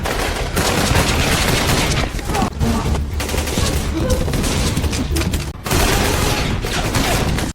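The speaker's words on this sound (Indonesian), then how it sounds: "Suara tembakan menggema di seluruh gedung." Gunfire echoes through a building during a film shootout, dense bursts of rapid shots filling the space loudly with brief gaps between volleys.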